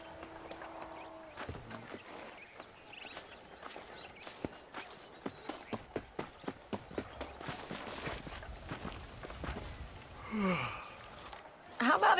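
Horse hooves clip-clop in the Red Dead Redemption video game, a steady run of distinct, evenly spaced footfalls at moderate distance over a low ambient bed, ending with a brief louder rustle and thump.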